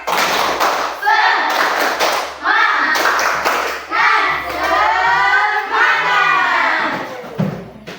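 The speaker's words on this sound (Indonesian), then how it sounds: "Sekali lagi, tepuk semangat." Close by, a class of teacher trainees chants in unison and claps in a quick patterned rhythm, with sharp hand strikes breaking up the loud group voices.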